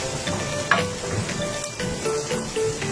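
Onions sautéing in a pan, a steady low sizzle with occasional stirring clinks, close and moderately loud, no talking.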